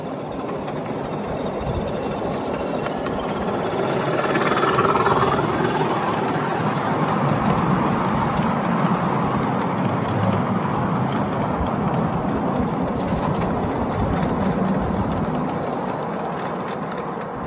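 A model railway train runs along its track with a continuous whirring, rattling rumble that swells slightly and then holds steady for over fifteen seconds, close by and with no talking.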